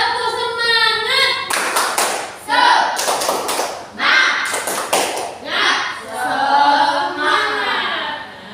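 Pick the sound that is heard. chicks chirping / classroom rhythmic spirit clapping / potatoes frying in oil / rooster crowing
classroom rhythmic spirit clapping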